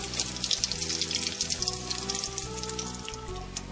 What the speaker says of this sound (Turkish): Ve diğer börekleri de aynı şekilde kızartmaya devam edelim.